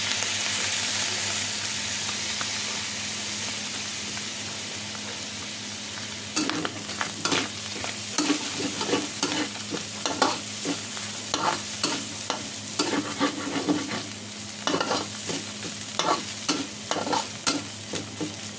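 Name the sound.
stir-frying meat with dried fish for lumpia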